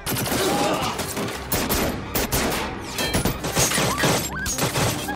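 Dense gunfire exchange from a war action film set during a Red Sea rescue mission, with rapid automatic bursts, overlapping shots and crashing impacts forming a loud, continuous barrage throughout, with no talking.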